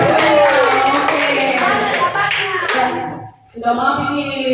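Teachers clap together at an Indonesian school workshop on positive school culture, a dense burst of hand claps under loud voices and chatter, briefly dipping before talk resumes.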